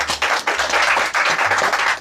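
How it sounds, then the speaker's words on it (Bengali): A crowd at a political gathering in Cumilla claps loudly and continuously, dense overlapping hand claps arriving in uneven surges. "সবাই হাততালি।"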